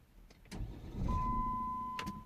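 A Jeep Grand Cherokee 3.0 CRD diesel that is hard to start from cold cranks briefly, with a low mechanical churn and a steady electronic tone beneath, bracketed by a few clicks.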